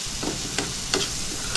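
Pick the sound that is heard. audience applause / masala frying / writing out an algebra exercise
masala frying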